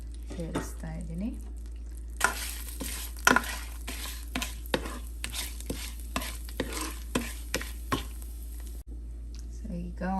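Whole garam masala spices with bay leaf and dried red chillies sizzle in hot oil in a pan while a spoon stirs them, producing close, steady frying hiss broken by repeated sharp scrapes and knocks.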